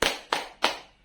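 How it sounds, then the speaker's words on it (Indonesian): Indonesian elementary school class doing a rhythmic group clapping routine, three sharp unison claps evenly spaced, close and clear with no talk. "Tepuk semangat."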